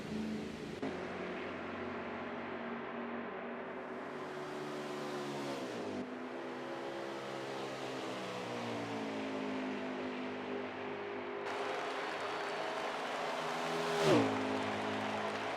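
Winston Cup race car on a qualifying lap at Homestead, its engine whining and shifting pitch as it circles the track, rising as it sweeps past near the start-finish line, heard from a distance.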